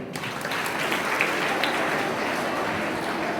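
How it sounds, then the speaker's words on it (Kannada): Audience applause at a guru-remembrance music festival lecture in Koppal, a steady dense wash of clapping filling the whole stretch at moderate level without a break. "ಮತ್ತೊಮ್ಮೆ ನನ್ನ ಕಡೆಯಿಂದ ಚಪ್ಪಾಳೆ"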